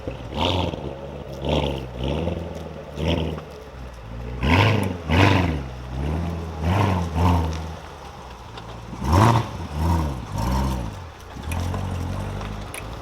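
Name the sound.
tuned car engine revving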